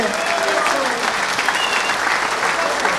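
A political gathering's audience of mayors and deputies breaks into sustained, even applause, a dense wash of clapping with faint crowd voices mixed in throughout.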